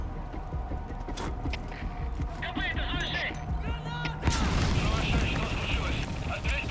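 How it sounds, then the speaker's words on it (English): A grenade blast in Metal Gear Solid V bursts in as a loud, broad explosion over ongoing game noise and chatter, with a sustained rumble trailing after. "Grenade time."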